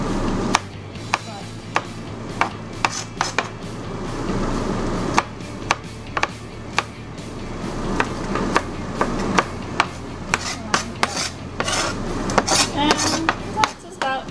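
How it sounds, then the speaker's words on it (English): A kitchen knife chops onions on a cutting board in steady, fairly quick strokes, each chop a crisp close knock, continuing with a few brief pauses; no one talks. "I'm just going to chop around, and you can chop your onions however you would like"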